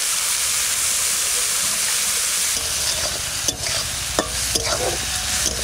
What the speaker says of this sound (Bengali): চিংড়ি মাছটা ভাজা করবো।